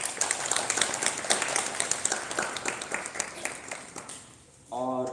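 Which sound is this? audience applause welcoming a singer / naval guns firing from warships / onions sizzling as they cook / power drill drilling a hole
audience applause welcoming a singer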